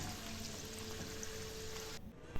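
Chicken pieces fry in hot oil in a wok, making a dense, steady, close sizzle that runs without a break before cutting off sharply near the end, followed by a small clunk. Nobody speaks.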